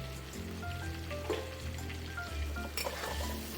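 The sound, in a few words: pumpkin frying with turmeric and salt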